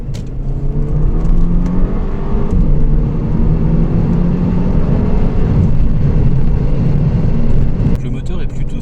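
An Audi TT MK2 8J with a 200 hp 2.0 TFSI engine drones steadily from inside the cabin while driving, a loud, even low-pitched rumble with tyre and road noise.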